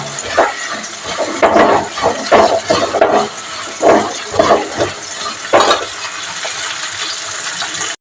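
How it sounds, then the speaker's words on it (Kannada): Onions frying in a pan for a Kannada ladies-finger gojju: a hissing, watery sizzle that swells in short bursts, like stirring, with quieter stretches between. "ಚೆನ್ನಾಗಿ ಫ್ರೈ ಆಗಬೇಕು ಈರುಳ್ಳಿ."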